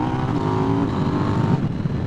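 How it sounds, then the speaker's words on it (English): A KTM 990 RC R motorcycle with its stock exhaust runs close by, giving a steady engine drone with a low burble that eases slightly toward the end, heard alone without talk. "It actually sounds, with this stock exhaust, really quite good. It's got a nice little burble, nice little overrun."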